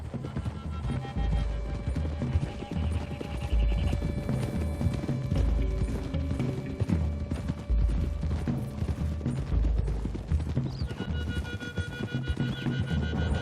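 Horses galloping in Red Dead Redemption 2, a rapid thudding clip-clop of several hooves at close range, with a neigh and rattling tack over a low rumble.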